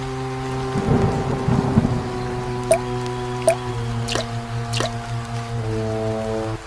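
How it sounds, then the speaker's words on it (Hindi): Rainwater dripping through a leaking house roof, several distinct drips plopping at irregular intervals over a steady tonal background, with a soft squishy splash early on. "घर का कोना कोना टपक रहा है"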